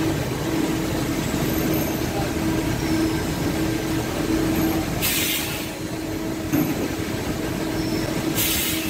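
A machine motor running steadily at 2500 RPM in the anti-clockwise direction during a vibration meter test, giving a continuous mechanical hum with a constant tone and brief higher hissy bursts, loud and close throughout.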